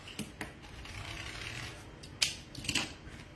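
Scissors snip ribbon for a wreath craft, with a few sharp cuts and clicks at irregular intervals over a faint room background.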